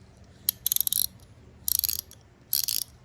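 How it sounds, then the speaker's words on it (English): Three quick bursts of crisp, rapid clicking from a 72-tooth ratcheting wrench mechanism, close and clear, separated by short quiet gaps, with no talking. "Now I'll let you guys hear the ratcheting."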